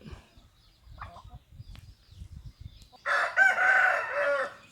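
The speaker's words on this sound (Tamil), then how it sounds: "இங்கே உள்ள கோழிகள் எல்லாமே ஒரிஜினல் நாட்டுக்கோழிகள்" Native country chickens cluck softly at first on a farm in a coconut grove, then a rooster crows loudly nearby for over a second.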